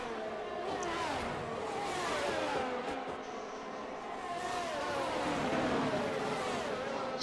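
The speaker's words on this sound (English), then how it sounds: "That Ferrari's eager to get past, isn't he?" A Ferrari race car in a racing video game revs hard while overtaking, its engine note climbing and sweeping steadily, loud and close, with other cars droning alongside.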